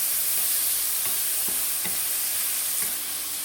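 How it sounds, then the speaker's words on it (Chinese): Scallion pieces and tomato chunks stir-fry in a wok with very little oil, giving a soft, continuous hiss broken by a few light spatula scrapes and taps. No voices are heard. "我们把葱段先放进去， 炒10秒钟，爆香后倒西红柿块"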